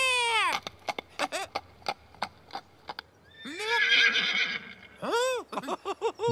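Tinky Winky and Dipsy, cartoon characters from Teletubbies, take turns imitating a horse with loud, close whinnies that rise and fall, mixed with clicking hoof-like clip-clops and short pauses between calls.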